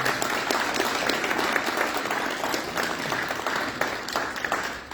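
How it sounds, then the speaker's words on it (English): An audience at a mayor's community recognition event gives steady, full applause, dense clapping at an even level throughout, with a faint murmur underneath. "Give her a round of applause."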